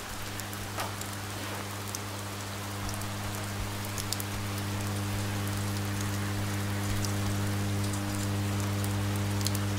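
Steady rain from a rainstorm in the video game Oxenfree patters on a surface with a constant low hum beneath, even and unbroken, some distance off and fairly quiet.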